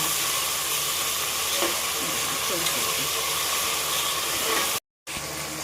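Mint and fenugreek leaves sizzle and hiss loudly in a pan while cooking mushroom biryani, a dense, constant frying noise with occasional stirring scrapes and a brief dropout near the end.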